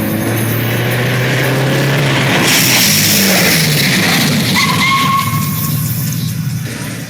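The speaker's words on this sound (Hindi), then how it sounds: "उसी समय उन्हें अचानक से गाड़ियों की आवाजें सुनाई दी" Several vehicles pull up with engines revving and rising in pitch over a steady rumble of traffic noise, loud and close, with no speech.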